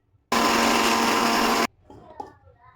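A kitchen mixer grinder whirs loudly and steadily for over a second, blending cashews, poppy seeds, chopped tomatoes and a little water into a paste for paneer masala gravy, then cuts off, leaving faint clinks and handling noises.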